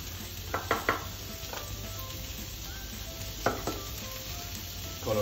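Vegetables for fried rice, including green chili, stir-frying in a pan, a soft continuous sizzle broken by a few quick spatula clanks and scrapes against the metal, close and moderately loud.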